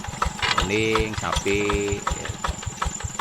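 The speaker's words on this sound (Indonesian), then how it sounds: "udah menggunakan mesin ya, mesin bajak ini, mesin pabrikan gitu" A factory-made plough machine engine running on a farm, a rhythmic low chugging with pulsing firing beats close by, while someone speaks over it.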